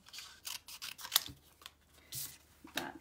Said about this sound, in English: now I'm going to bring in my snips and I'm going to cut this down